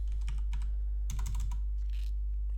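Python code being typed on a computer keyboard: quick clusters of close, crisp keystrokes in uneven bursts over a low steady hum, with no voice.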